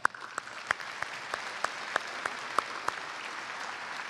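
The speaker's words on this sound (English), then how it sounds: "I hope you'll help me recognize them with a round of applause." Audience applause at a high school graduation ceremony in a large arena, a steady wash of clapping from a crowd with a few sharper individual claps standing out at irregular intervals.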